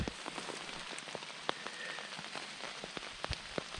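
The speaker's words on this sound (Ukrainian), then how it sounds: "Дощ лиє" Heavy rain pouring in a forest, a steady dense patter with sharper drops striking nearby surfaces throughout.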